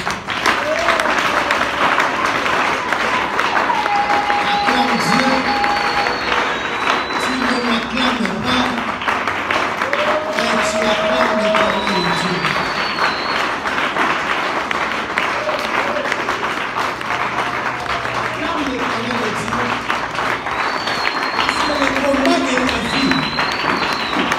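Church congregation applauding during worship, a steady wash of clapping and crowd noise filling the space throughout, with voices and singing mixed in.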